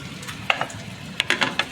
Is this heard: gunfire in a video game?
no